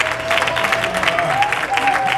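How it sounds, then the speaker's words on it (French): An audience applauds at a church Father's Day celebration, with steady dense clapping throughout and a faint tone sounding underneath. "C'est pourquoi elle applaudissait avant tout le monde."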